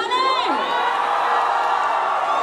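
Loud crowd cheering and whooping at a film premiere in Gurugram, with shouts from many voices, dense and continuous throughout.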